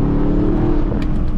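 A Camaro engine revs up sharply during a rev-matched gear change, a loud, close, rising drone heard from inside the car.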